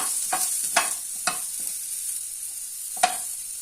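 Onion and garlic frying in a little oil, giving a steady low sizzle broken by four sharp scraping stirs of a spoon against the pan, with no voices.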